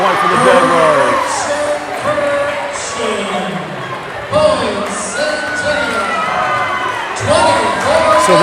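A crowd at a high school regional final volleyball match between Ottumwa and Ankeny Centennial cheers and whoops loudly throughout, with squeaking shoes and a ball bounce in the mix.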